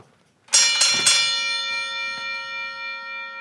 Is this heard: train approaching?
no